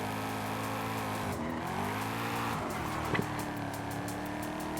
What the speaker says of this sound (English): I do like the exhaust system on this thing.